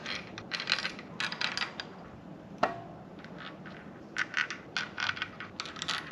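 Metal engine bolts for a Subaru STI short block clink and clatter as they are handled in a workshop, with clusters of light metallic jingles, one sharper clack near the middle, and quieter pauses between.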